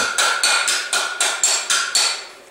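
A hammer strikes a dogleg body panel on an old Ford Fairlane about eight times in an even, quick rhythm, each blow a close, sharp metallic ring with no talk.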